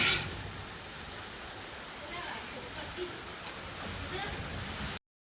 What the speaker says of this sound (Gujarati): જબરજસ્ત વરસાદ પડે જો ગાઈસ જબરજસ્ત વરસાદ પડે